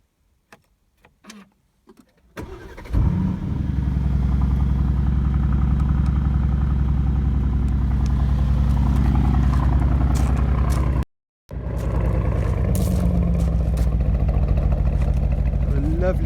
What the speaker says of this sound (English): I'll give it a little start up, see what everybody thinks, because it has got a lovely burble to it